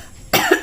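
A woman coughs once, sharp and close, after a quiet moment, with a short second burst at the end.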